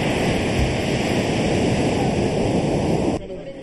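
Ocean waves pound the shore of the beach at Bargny, a fishing community's coastline, making a dense, continuous roar of surf that drops away abruptly near the end.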